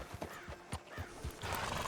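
A horse in the Red Dead Redemption 2 video game, with steady clip-clop hoofbeats and a snorting whinny, close and moderately loud with no talk over it.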